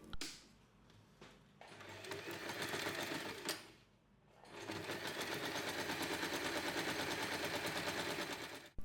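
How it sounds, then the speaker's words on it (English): A sewing machine stitches along the edge of a folded fabric pocket for a small snap wallet keychain in close, rapid bursts, pausing briefly between runs before a longer steady stretch. "Fold the fabric in half with the right sides together and sew along the edge"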